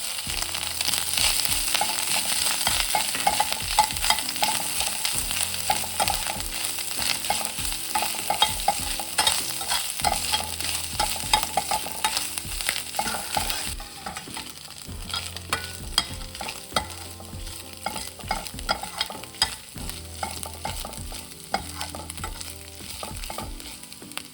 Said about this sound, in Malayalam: നേരത്തെ മാറ്റി വെച്ച തേങ്ങ ഇട്ട് വറുക്കാം.